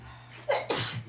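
A single close, loud sneeze in a quiet room during a radio show, a short intake followed by a sharp burst, with a low steady hum underneath.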